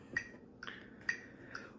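Hands clap in time with a counting rhythm, four sharp, isolated claps spaced evenly about half a second apart, crisp and close with nothing else sounding.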